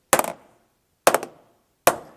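Three hard hammer blows land on the door of a SecureIt TruSafe gun safe with uneven gaps between them. Each is a sharp, dry crack with a short rattle and almost no ring.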